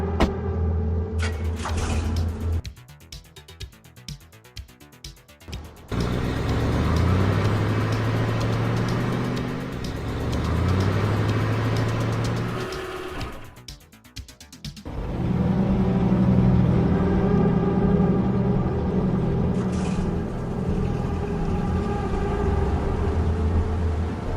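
A car drives in the Ice Scream video game, its engine humming and revving in long stretches broken by two abrupt cuts to different sounds, steady and fairly loud with no talk.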